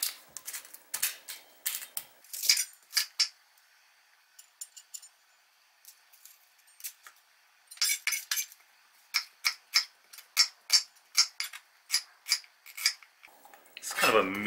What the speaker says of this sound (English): Next step is to chop up our onion.